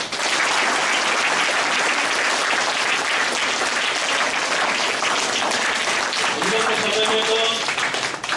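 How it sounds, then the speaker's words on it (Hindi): Guardians and attendees at a district cricket association event for young players give loud, continuous crowd applause, dense and unbroken, with a faint voice briefly surfacing toward the end. "सभी गार्जियन लोगों के लिए एक बार जोरदार ताली भाई"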